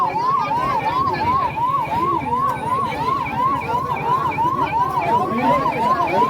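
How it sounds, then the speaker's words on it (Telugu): An ambulance siren wailing in a steady rising-and-falling pattern, loud and continuous, with road noise beneath at a roadside protest. "అంబులెన్స్ వచ్చింది ఒకసారి"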